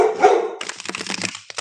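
Dogs barking indoors, several sharp close barks and yips in a quick irregular burst, the big puppy among them, loud and alone without talk.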